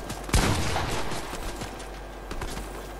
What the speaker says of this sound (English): he's shooting you